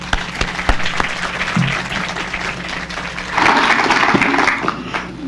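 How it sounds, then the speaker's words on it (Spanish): Audience at a public security forum in Nezahualcóyotl applauds the local police commander with steady, dense clapping that swells louder toward the end, lasting several seconds. "al que pido un fuerte aplauso"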